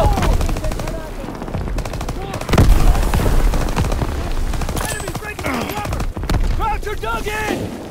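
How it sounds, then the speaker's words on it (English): Intense Call of Duty WW2 D-Day battle: rapid machine-gun bursts and rifle fire with a heavy grenade boom near the middle, loud and continuous, while soldiers shout over the combat. "Grenade out!"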